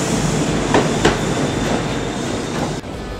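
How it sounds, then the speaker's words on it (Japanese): A Kintetsu Osaka Line rapid express train rumbles steadily along the rails, with a continuous low roar and a few faint clacks from the wheels. "その後列車はこれまで進んできた方向とは逆に内山田方へと移動していきました"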